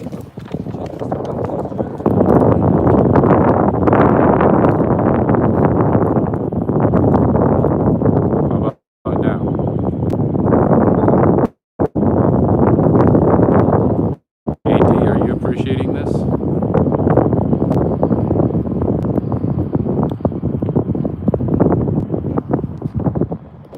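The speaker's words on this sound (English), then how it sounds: "Yes, it's very windy." Strong wind buffeting the microphone beside the Hudson River, a loud continuous roaring rumble with brief dropouts.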